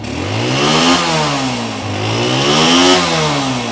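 A motorcycle engine revs repeatedly nearby, loud rising and falling throttle blips over a rumbling idle.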